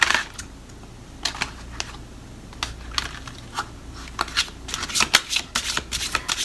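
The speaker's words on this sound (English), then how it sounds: "Okay, so let's just shuffle these." Spirit Song tarot cards being shuffled by hand at close range, giving irregular bursts of crisp riffling and slapping that grow denser and louder near the end, with no talking.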